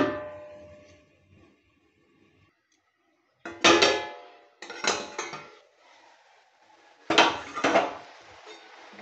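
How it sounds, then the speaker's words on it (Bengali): A lid set onto a cooking pot on the stove, several distinct metallic clanks and rattles in quick clusters, close and fairly loud, after a soft ringing lead-in. "এটা আমি এখন ঢেকে দেবো সেদ্ধ হওয়ার জন্য"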